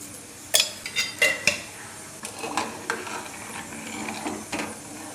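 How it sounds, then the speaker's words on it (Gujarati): Kadhi stirred in a cooking pot, a few quick metallic clinks and scrapes of a spoon against the pot followed by softer irregular stirring knocks, close and moderately quiet. "વચ્ચે વચ્ચે કઢીને આ રીતે હલાવતા જઈશું."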